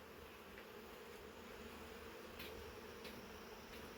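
Bees buzz at a swarm trap hive, a faint, constant hum of many insects with a few brief closer passes, steady throughout and free of talk.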